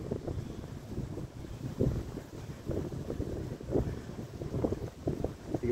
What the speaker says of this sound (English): You can probably hear the wind pick up.